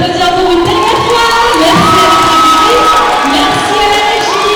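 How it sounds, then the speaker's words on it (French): A festival crowd at a cosplay contest cheers and shouts loudly, with children's high whoops and continuous dense crowd noise throughout. "on les applaudit encore une dernière fois"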